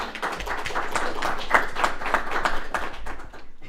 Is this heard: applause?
yes